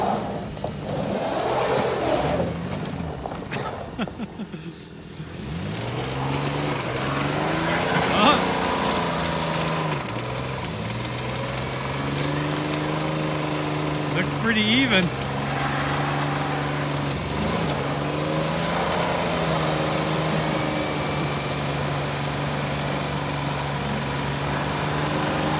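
Jeep engines rev and labor in a Jeep-versus-Jeep tug of war, a steady drone with rising and falling pitch swells, fairly close, with people talking over it throughout.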